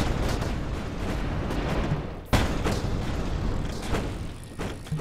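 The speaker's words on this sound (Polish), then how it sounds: "Dobra, przeczekałem te wybuchy wszystkie." Heavy explosions and cannon fire in the video game Guts and Glory, a dense, continuous rumble of booms with one sharp blast standing out midway, loud and close with no talking.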